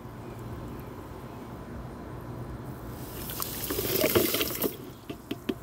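Distilled water poured into a container during soap making, a soft running, splashing flow that swells midway and tapers into a few drips and small clinks, with a low steady room hum underneath.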